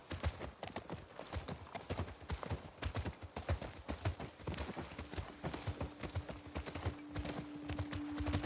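Horse hooves clip-clop at a steady walking rhythm in the video game The Last of Us Part II, moderately close and fairly quiet, with a faint low hum beneath them.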